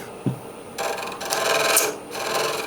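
Bowl gouge cutting acrylic spinning on a lathe, a harsh scraping rasp in two sustained passes with a brief gap between them, close and fairly loud.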